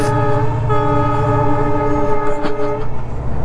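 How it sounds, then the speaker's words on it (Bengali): A train rumbles past overhead on a hillside line, its horn sounding as a loud sustained multi-tone blast that holds for nearly three seconds before cutting off, with a brief clank near the end. "ওই যে দেখছো উপর দিয়ে ট্রেন যাচ্ছে,"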